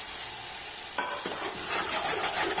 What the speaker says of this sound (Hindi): तो अब हम इसको अच्छी तरह मिक्स करके सोते करेंगे